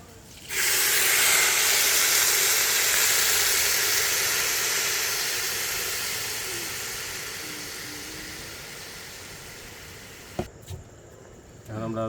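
Hot water poured onto chinigura rice frying with onions for pulao at a village family picnic: a loud, sudden steam hiss that rises at once and slowly dies down over several seconds, followed by a few clanks.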